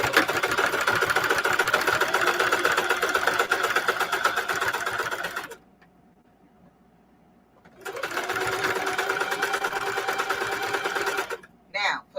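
A sewing machine stitching embroidery onto jeans, running in a loud, fast, even whir for several seconds, pausing in near silence, then stitching again in a second long burst before stopping.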